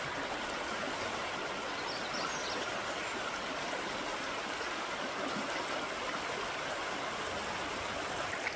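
A wilderness stream in the Hammersley Wild Area rushes steadily and evenly, a dense continuous hiss of flowing water with no voices.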